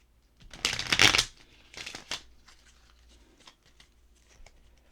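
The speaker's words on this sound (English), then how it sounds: "One more shuffle, then we'll get cut." A deck of cards is shuffled, giving a loud riffling burst followed by a shorter second riffle and a few soft taps and flicks as the cards settle.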